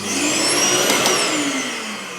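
A Philips 2000 Series XD2152 vacuum cleaner whirs loudly and steadily up close, with a high motor whine that rises and then eases slightly.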